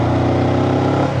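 A Honda 400X motorcycle engine accelerates uphill on a winding mountain road, a loud, steady mid-pitched engine drone with a firm throbbing rumble, close to the rider and without any talking.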